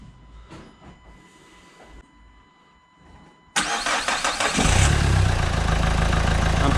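A Renault Twingo 2 with the 1.5 dCi diesel is restarted: quiet low sounds give way to a sudden loud crank, and the engine catches into a steady, close, rumbling diesel idle.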